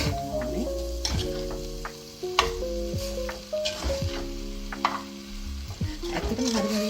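Ragù bolognese frying in a pan, a close, continuous sizzle broken by regular scraping and clattering strokes of a spoon stirring the sauce, with no talking.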